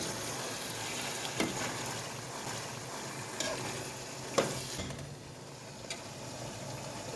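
Corn stirred and sizzling in a pan for fajitas, a steady bright frying hiss with a few soft spoon scrapes and clinks at irregular moments.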